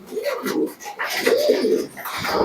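A black-eyed pigeon coos close by, with several throaty, rolling calls repeating in quick succession over a brief stretch of flock noise.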